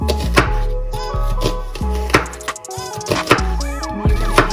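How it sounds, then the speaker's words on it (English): Knife chopping down through an onion along its ridges, a quick series of crisp close cuts on a board with uneven rhythm, no talking. "I'm going to cut the onion just in those ridges there"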